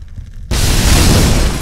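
A house fire reignites explosively in a backdraft as a window opens: a sudden loud roaring whoosh bursts in after a quiet moment and keeps rumbling steadily.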